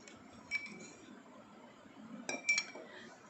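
Cold milk drink stirred in a glass, a few faint clinks of a spoon against the glass, one early and a cluster near the end, with quiet background in between.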